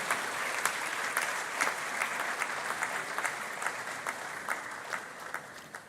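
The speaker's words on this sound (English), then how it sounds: "A round of applause for him, ladies and gentlemen." An audience at a university congregation ceremony at KNUST applauds steadily, a dense wash of clapping from a large crowd that holds at an even level for several seconds.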